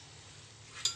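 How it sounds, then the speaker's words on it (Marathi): Gulab jamun frying in oil on a low gas flame while being stirred with a spoon, giving a steady soft sizzle with a brief louder scrape of the spoon near the end. "चमच्याने असं ना असं हे करायचं, हलवत राहायचं."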